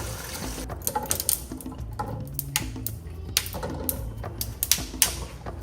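Water runs from a kitchen tap during meal prep, a steady splashing wash broken by clinks and knocks of utensils and ice close by, with no talking.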